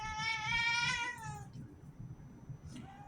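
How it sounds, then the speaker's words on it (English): A house cat meows in a long, high, whining cry up front, then gives a shorter, softer meow near the end, close and clear over faint room noise. "Obnoxious little douche called Puddy Cat."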